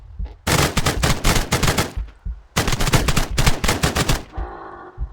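Gunfire in a video game aimed at an attacking creature. Two long, loud bursts of rapid automatic shots are separated by a short pause, and a fainter tail follows.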